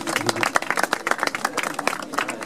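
An audience at a Ford Mustang gathering claps for a car owner, producing a brief burst of dense, close applause with mixed voices underneath.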